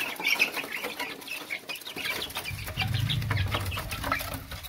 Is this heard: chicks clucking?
yes